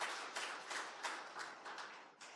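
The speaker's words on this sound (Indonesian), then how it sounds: "Berikan tepuk tangan untuk Tuhan kita." Church congregation at a Sunday worship service clapping together, a soft, somewhat distant patter of hands in rhythmic bursts, with no voices over it.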